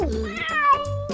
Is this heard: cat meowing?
yes